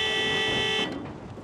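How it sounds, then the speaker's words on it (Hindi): A car horn blares in one sustained blast for under a second, then cuts off, leaving street background noise. "क्यों इतना हॉर्न दे रही हो?"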